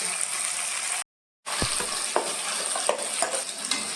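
Pea paste sizzles as it is stirred and fried in a pan for a stuffed paratha filling, a constant close crackle with scraping stirs, broken by a brief gap of silence.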